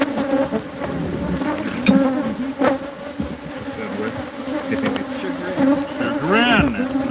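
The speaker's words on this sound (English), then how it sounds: "Angry bees" Angry bees buzzing steadily and close, a dense swarming drone with individual insects whining past, connected with wasp-like stinging insects around a fifth-wheel trailer.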